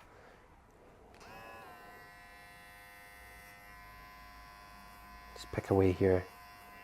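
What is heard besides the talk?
electric hair clipper cutting hair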